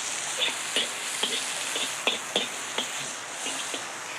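Pork frying in a hot wok gives a steady broadband sizzle, with frequent sharp clicks and pops from spattering fat and stirring, while rain falls on a roof in the background.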